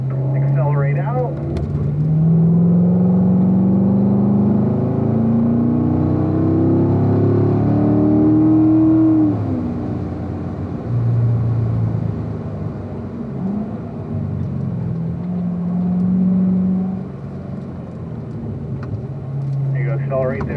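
A race car accelerating out of a turn, with the engine note climbing and then steadying in a loud, continuous drone from inside the car, while a voice talks over it.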